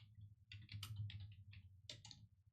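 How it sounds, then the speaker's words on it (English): Quiet, close clicks of typing on a computer keyboard, irregular clusters of keystrokes over a low steady hum, with no speech. "Don't mind me, I'm typing."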